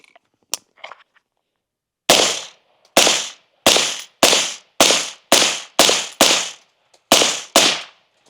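Rifle fired through a non-flow-through suppressor outdoors, ten sharp loud cracks in a steady string about half a second to a second apart after some faint handling clicks, each with a short fading tail.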